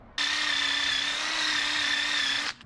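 TIG welder butt fusing metal without filler, a loud steady buzzing hum running unbroken for over two seconds before cutting off sharply.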